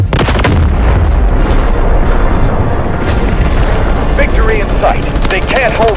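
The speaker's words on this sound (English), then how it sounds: "Requesting artillery barrage!" Artillery barrage in the video game Delta Force, a dense continuous roar of heavy booms and rumbling explosions, loud and unbroken, with faint chirping effects near the end.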